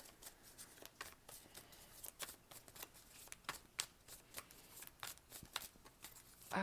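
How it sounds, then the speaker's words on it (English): Tarot cards shuffled by hand, a quiet, close sequence of crisp riffling flicks and slaps repeating steadily for several seconds with no talking. "let's get some more cards here."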